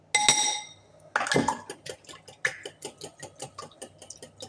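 A whisk beating cupcake batter with vanilla in a bowl, rapid rhythmic clinking and scraping strokes against the bowl, close and fairly loud, opening with a few sharper knocks before settling into a steady beat.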